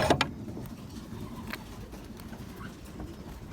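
Belgian racing pigeons coo softly in their loft after the morning feed, a low murmuring coo with a few brief sharper sounds near the start, moderately close and without talk.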